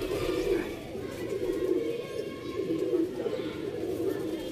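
Pigeons coo softly and repeatedly inside a loft, a low, continuous, murmuring warble close by with overlapping calls.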